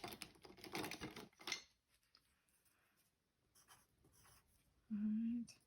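A pencil scratches on paper in quick bursts, brief strokes followed by quieter pauses, and a short tonal squeak or voice-like sound comes near the end.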